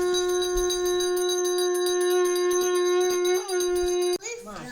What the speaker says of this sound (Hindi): तो हमारे कुल पुरोहित अब ये शंख बजा रहे हैं।